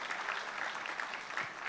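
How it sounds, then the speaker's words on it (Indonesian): A church congregation claps in sustained applause for a brief moment, a dense even patter of many hands heard from a moderate distance with a faint crowd murmur beneath. "Tepuk tangannya yang paling meriah buat Yesus Tuhan kita."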